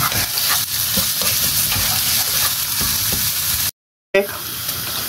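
Garlic sizzles and spits in hot oil in a pan while being stirred, with scraping utensil taps throughout and a short silent gap near the end.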